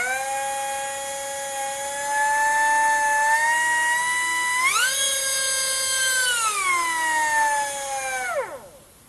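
Air-driven spindle spinning a cheap Dremel collet, a loud high-pitched whine that rises in pitch as the air is turned up, holds steady, then drops away as it spins down.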